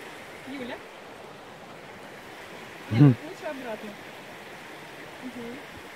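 A river flows through a Russian forest grove near Roshchino in the St Petersburg region, giving a steady, soft rushing wash. Brief voices and a short louder burst rise over it midway.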